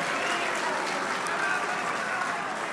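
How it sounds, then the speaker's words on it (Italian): Steady, dense applause from the audience at a morning event on workplace legality and safety in Rimini, a continuous wash of clapping at even loudness from start to finish. "Possiamo fare un applauso a tutti gli enti organizzatori"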